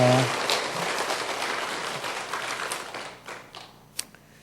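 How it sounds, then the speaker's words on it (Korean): Church congregation applauding a choir during a Sunday morning worship service; many hands clapping at moderate volume, steady at first and then thinning out into a few scattered claps before fading. "우리 기약단을 위해서도 한번 여러분 박수 한번 해주시기 바랍니다."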